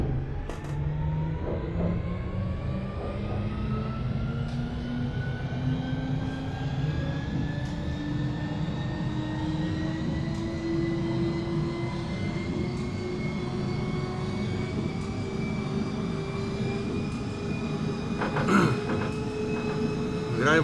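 A GVB metro train runs in the Metro Simulator video game, its motor whine rising steadily in pitch as it accelerates over a constant rumbling drone, with a brief clunk near the end.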